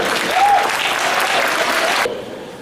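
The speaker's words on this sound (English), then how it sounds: "Everybody give a round of applause for Mayor Vincent Gray." A crowd at a bank's 80th anniversary event gives loud, sustained applause with a few whoops, then cuts off abruptly near the end.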